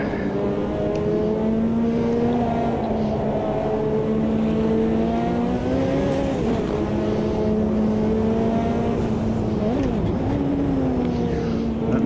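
Simulated Ferrari GTO race car engine in Automobilista 2, a loud steady high-revving drone held almost throughout, with brief dips and pitch wobbles around lifts and shifts.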